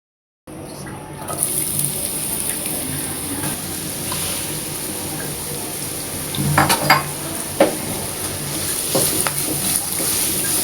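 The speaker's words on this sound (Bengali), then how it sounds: "পেঁয়াজটাকে আমি গোল্ডেন কালার করে ভেজে নেব।" About a cup of chopped onions frying in oil toward golden for a fish-roe curry, a steady close sizzle throughout with a few louder stirring scrapes near the middle and end.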